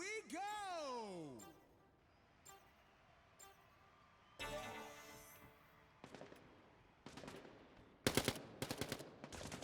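Submachine gun fire in the Quantum League arena shooter, rapid bursts of shots building toward the end amid game effects and sweeping synth tones, with commentators talking underneath.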